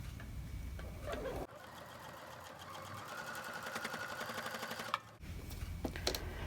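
A sewing machine stitches a wonky star quilt block at a slow, steady pace for several seconds, its rapid needle clatter close by, with quieter room sounds before and after.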